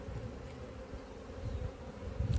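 Honeybees swarm around an opened apiary hive, a soft, continuous low buzzing hum that stays fairly faint, with no one talking.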